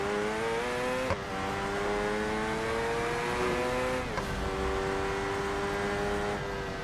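Car engine in the BeamNG.drive racing game on an Italy map, a steady, loud engine drone with slight pitch shifts, heard alone with no talking.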